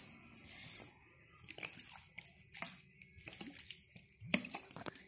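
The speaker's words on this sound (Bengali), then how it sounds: "এখন একটু জল দিয়ে দিই জাস্ট" Water is poured onto potted plants in short, faint splashy trickles that come and go, close by and quiet.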